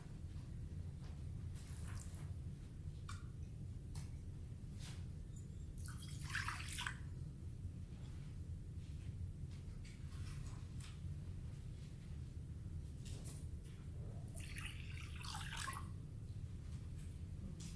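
Water trickles and splashes in short bursts as it is poured into a vessel during a Unitarian Universalist water communion ceremony, faint against a steady low room hum, with no talking.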